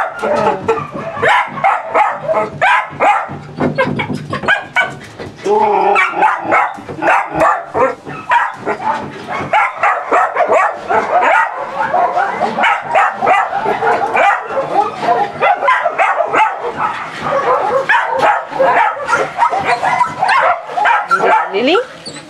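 Many dogs in an animal shelter kennel bark and yip nonstop, a loud chaotic chorus of overlapping barks and whimpers close by, with talking mixed in.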